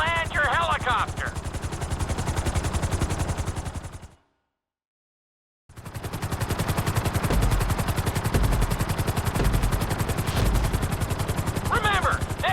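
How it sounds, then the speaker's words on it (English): A helicopter in Grand Theft Auto V runs a timed city obstacle course, its rotor chopping in a loud, rapid, steady pulse that cuts out briefly midway and then resumes, with occasional short game sound effects. "Finish the obstacle course around the city before the timer runs out."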